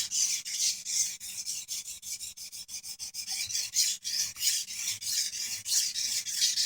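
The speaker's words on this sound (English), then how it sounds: "moderate pressure here that I'm using on my edge trailing strokes only. So no pressure at all as I push the knife back." A knife blade is drawn in edge-trailing strokes across a sharpening stone, a steady rhythm of rasping scrapes about three per second, close and clear with no talking.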